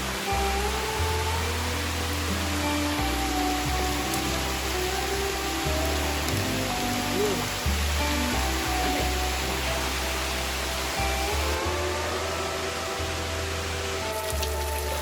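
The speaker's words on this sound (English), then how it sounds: "Oh, the rain is back again." Rain pours steadily onto a bathroom under renovation with no roof guttering yet, a constant wide hiss of falling water with a low rumble beneath it, continuous and unbroken throughout.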